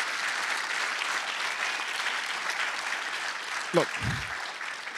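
An audience applauds a keynote speaker, founder of the Raspberry Pi Foundation, at the Ingenuity 2016 event. The clapping is steady and dense across the clip, and one voice says a single word near the end.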